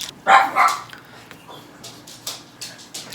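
Dogs bark indoors in a house, a loud double bark at the start followed by scattered softer yips and short barks, with no one speaking.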